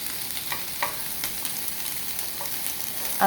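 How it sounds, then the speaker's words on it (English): Onions sauteing in a pan give a steady close sizzle, with a few soft scrapes and stirring clicks scattered through it and a slightly louder clatter at the very end. "So we're gonna go ahead and saute this until it's slightly translucent."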